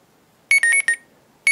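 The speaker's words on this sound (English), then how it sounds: "So you can change the sound to when you unlock your device. So right now, it's at the alarm." An iPhone unlock plays an alarm sound: a loud, close electronic alarm beeps in a rapid burst of three or four pulses, pauses, then starts again.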